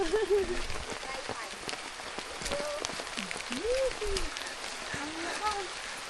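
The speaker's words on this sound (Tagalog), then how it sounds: "Naulan pa" Steady rain patters on a surface, with a bird chirping now and then and faint voices in the background.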